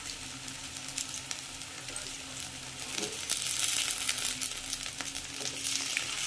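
Cut okra sizzles steadily in hot oil in a pan while a vegetable gravy is cooked, a dense close crackling hiss that swells slightly louder partway through, with no talking.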